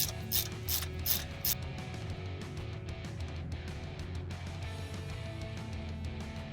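A ratchet clicks rapidly up close as it works bolts loose from the ABS line brackets on a 2007 Chevy 1500 during front-end repairs, with bursts of clicking over a low steady background hum.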